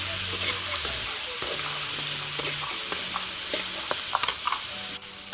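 Chili flakes and green peas are stirred through a hot pan, a steady close sizzle and frying hiss broken by scraping strokes of the spoon; no talking.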